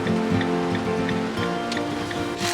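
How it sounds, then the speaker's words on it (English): Steady rain falling through the night on a campground in Scotland, a dense continuous patter with a few brighter drops standing out, close and fairly loud throughout. "the rain set in for the rest of the night"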